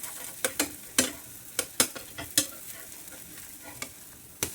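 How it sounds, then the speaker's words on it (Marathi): A jowar flour dosa cooks on a hot pan. A soft continuous sizzle runs under a scattering of sharp, close spatula taps and scrapes as the dosa is flipped to roast both sides. "दोन्ही बाजूने असं पलटून भाजायचं इकडून पण भाजलेलं आहे"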